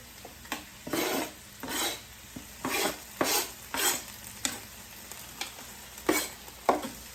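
Homemade turkey chili is stirred in a pan, giving about a dozen rhythmic scraping strokes against the metal over a soft, steady sizzle, close and fairly quiet with no talking.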